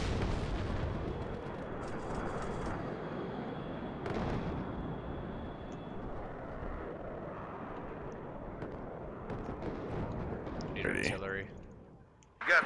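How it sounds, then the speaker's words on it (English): Artillery fire in the Cold War strategy game Warno rolls as deep, heavy rumbling blasts over a continuous battlefield roar, with voices talking over the bombardment. "I've got some artillery shooting at some tanks"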